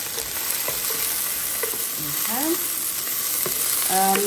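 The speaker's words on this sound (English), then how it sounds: "I'm going to start with lightly frying my pimentos." Pimentos lightly frying in a pan for rice, a steady soft sizzle with occasional stirring scrapes, close and continuous with no talking.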